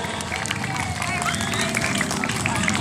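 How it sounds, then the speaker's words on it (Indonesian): An audience at a traditional Dul Muluk theatre performance in Tanjung Enim claps amid crowd hubbub, the applause dense and steady beneath a loud voice talking over it. "Tepuk tangan dong buat Dul Muluk"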